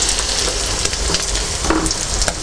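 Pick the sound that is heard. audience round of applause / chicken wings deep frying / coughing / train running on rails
chicken wings deep frying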